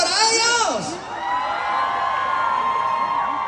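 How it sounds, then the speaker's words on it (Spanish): A concert crowd cheers and shouts for the band at a show in Sacramento, with rising whoops and sustained crowd noise that briefly dips and then carries on steadily. "¡Un fuerte aplauso para ellos!"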